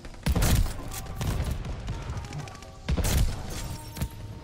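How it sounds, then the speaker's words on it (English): A combat shotgun firing thermite rounds in Call of Duty Vanguard, two heavy close blasts about two and a half seconds apart, each followed by crackling burning debris. "Long range thermite for the win."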